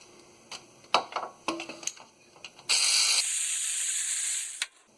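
An electric ratchet loosens a bolt on a 2015 Chrysler Town & Country during inner CV axle shaft replacement. A few metallic clicks and taps come first, then a bright, close, sustained whirring hiss runs for about two seconds before stopping.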